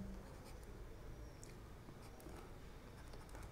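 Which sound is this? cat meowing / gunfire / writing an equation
writing an equation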